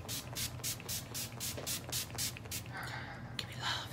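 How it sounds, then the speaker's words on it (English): Setting spray misted onto a face at close range, a quick series of about ten short, soft spritzes in rhythm, followed by quieter rustling. "so I'm going to spray my face."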